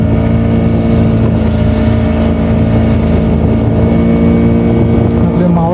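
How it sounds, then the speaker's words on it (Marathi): A fishing boat used for transparent prawn (jawla) fishing motors into a creek, its engine a steady, loud, close drone with wind buffeting the microphone throughout. "बघा आपले होडी सुद्धा आपल्या खाडीमध्ये आता आलेले आहे"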